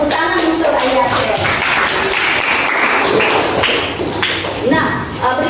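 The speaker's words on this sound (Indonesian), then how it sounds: "tepuk tangan untuk Ayatul" Students in a junior high school classroom clap for a classmate, a dense burst of hand clapping mixed with thumps and taps and classroom voices over it for several seconds.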